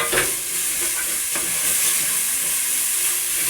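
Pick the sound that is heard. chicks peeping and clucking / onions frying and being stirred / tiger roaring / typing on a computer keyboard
onions frying and being stirred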